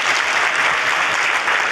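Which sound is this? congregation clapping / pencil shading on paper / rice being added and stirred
congregation clapping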